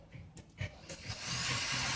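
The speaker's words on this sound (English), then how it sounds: "Use the drill bit to kind of just make a hole bigger so that we can start putting subsequent bits in there that are slightly bigger." Drill bit spinning into wood to widen a small 5/64 pilot hole, starting with a few short bursts and then settling into a steady, rising whir that grows louder through the end.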